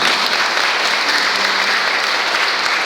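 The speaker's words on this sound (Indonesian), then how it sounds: "Tepuk tangan buat Tuhan Yesus." A church congregation at a Sunday morning Pentecostal service applauds together, a loud, dense, steady wash of clapping that fills the whole stretch without any voices on top.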